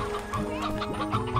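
Chickens in the Slime Rancher video game cluck in quick, overlapping bursts, fairly close and at moderate volume over a steady game-music background.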